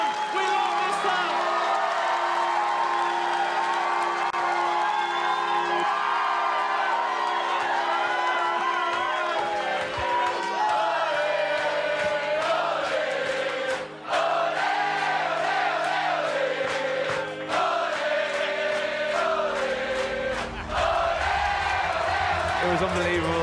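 A large crowd cheers and roars at a homecoming concert, with loud sustained whooping and shouting that carries on nearly without a break, briefly dipping now and then.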